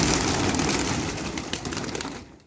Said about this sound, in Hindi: ये छत वाला कबूतर है